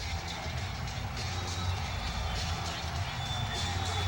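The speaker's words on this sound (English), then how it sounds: "The crowd here cheering on the Orlando Magic with the best home record in the NBA in the regular season." Arena crowd cheering for the Orlando Magic at an NBA basketball game in 1995, a steady, dense roar of many voices holding at an even level throughout.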